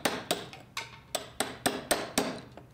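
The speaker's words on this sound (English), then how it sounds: "the point chisel is great for the beginning defining the form." A point chisel strikes a stone sculpture in a steady rhythm of about nine sharp, close blows, each a bright metallic clink with a short ring.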